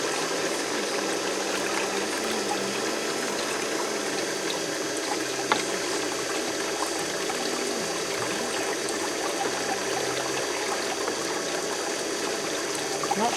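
Water bubbles steadily during a gold sluice cleanup on gravel, a constant fizzing, gurgling wash that stays at an even level from start to finish with no pauses.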